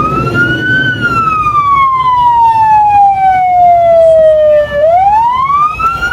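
Fire truck siren wailing loud and close, its pitch sweeping slowly down then rising again, over a steady engine and traffic rumble as the truck tries to pass a funeral procession on the road.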